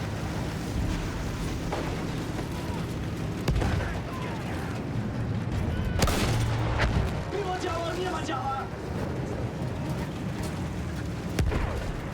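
A war video game battle with rumbling booms and explosive gunfire under a constant dense din, while voices shout over the noise.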